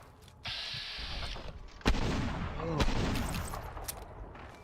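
Gunfire in Fallout: New Vegas, heard from inside the game, with a couple of loud reverberant blasts over a buzzing, muffled background of game noise.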